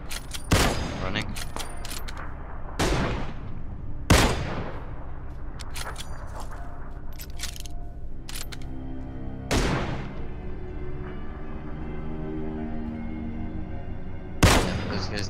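Gunfire in the PUBG battle royale video game: several sharp, loud single shots at irregular intervals, each with a short echoing tail, while players talk.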